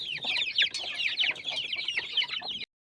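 Several hens cluck busily at close range, a dense run of quick, bright calls continuing without pause until the sound cuts off abruptly.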